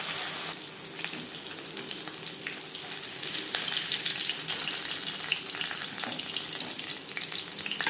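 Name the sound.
sarputi fish frying in oil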